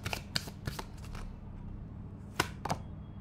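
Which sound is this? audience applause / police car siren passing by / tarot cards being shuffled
tarot cards being shuffled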